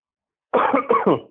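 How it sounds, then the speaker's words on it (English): Someone close by coughs three or four times in quick succession, loud and rough, after a moment of silence. "Sorry, I had a cough."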